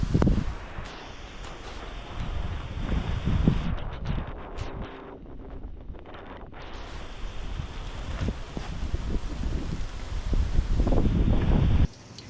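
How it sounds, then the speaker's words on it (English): Hurricane Beryl's first band blowing hard outdoors: a steady, loud roar of gusting wind with heavy buffeting on the microphone, easing briefly midway then surging back strong until it cuts off near the end. "The hurricane. It's hitting right now."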